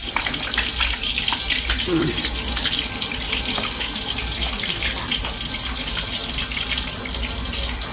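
Mackerel deep-frying in hot oil over medium heat, giving a steady, dense sizzle and crackle with a constant hiss that holds at an even loudness throughout.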